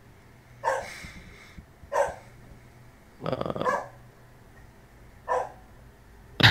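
Several separate dog barks from more than one dog, moderately close, spaced out over a few seconds against a quiet background with a faint voice.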